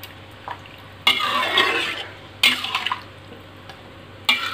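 Beef rendang cooking with thick coconut milk in a pot, stirred in three loud scraping bursts over a steady low bubbling simmer.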